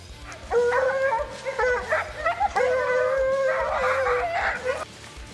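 Hunting hounds on a treed big cat bay and howl together outdoors, a loud, continuous chorus of overlapping long howls and yips with no talk.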